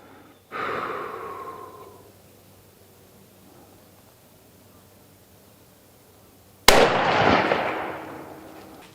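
Two loud rifle shots ring out several seconds apart from a CVA Cascade rifle chambered in 7mm PRC, each a sharp crack followed by a rolling echo fading away outdoors.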